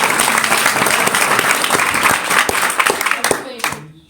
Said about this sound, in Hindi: एक सेकंड जोरदार तालियां.